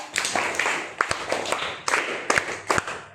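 An audience claps in applause after a schoolgirl recites a prayer poem at a school event, a dense spatter of claps swelling in several bursts, fairly close and filling the whole stretch.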